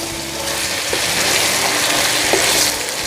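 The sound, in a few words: chicken pieces frying and being stirred in a pan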